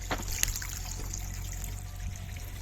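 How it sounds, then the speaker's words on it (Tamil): Water trickling and gurgling through an empty farm irrigation pipe as flow first reaches it, a thin steady dribbling with faint splashes and a low background hum, no talk. "இந்த தண்ணி சத்தம் கேட்குது."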